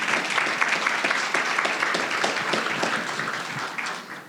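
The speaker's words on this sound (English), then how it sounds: "So we give them a round of applause." A morning audience at a women's leadership event hosted by the Detroit Pistons gives a steady round of applause, with brisk, dense clapping at moderate distance that tapers slightly near the end.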